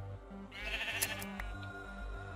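Sheep in the Minecraft video game bleat several times in quick succession, fairly close and alone over a low rhythmic background tone.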